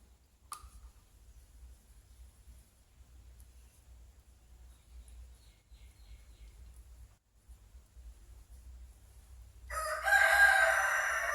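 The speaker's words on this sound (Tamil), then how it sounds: "கோழியெல்லாம் கூவுது" Near silence with a faint low hum, then a rooster crows loudly near the end.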